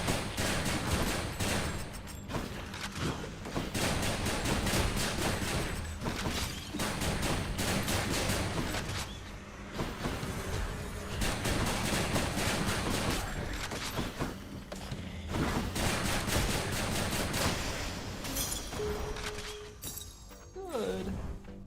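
Rapid bursts of rail gun fire in the video game Hades, dense repeated shots in long volleys over game effects, with a player talking over them.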